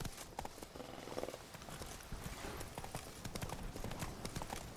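Hooves clop rapidly on the ground as a horse gallops in The Witcher 3, a steady drumming rhythm that stays close and fairly loud throughout.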